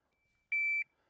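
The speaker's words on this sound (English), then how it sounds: "make sure the timer's working." A single shot timer beep sounds at a pistol range, one sharp, clean electronic tone lasting about a third of a second, loud and close against near silence.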